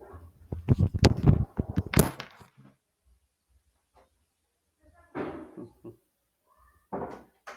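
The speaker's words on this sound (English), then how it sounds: "I must close my door." A door is closed indoors with a cluster of knocks and clattering bumps ending in a sharp slam, followed by quiet and a couple of softer shuffling sounds.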